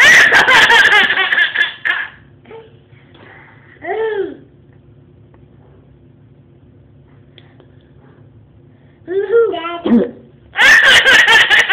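A man hiccups in sharp isolated gulps while a baby bursts into loud giggling laughter at both ends, the hiccups standing out in the quieter middle stretch.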